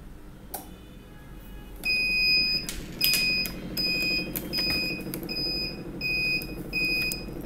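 An XM18SW temperature and humidity controller sounds its alarm in a series of short, high electronic beeps, repeating at a steady rhythm over the low hum of a running exhaust fan and motor.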